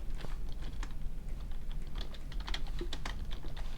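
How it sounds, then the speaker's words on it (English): Quick, irregular clicks of typing on a computer keyboard, close and fairly quiet, with no talking. "I'm typing it in so you can all see it."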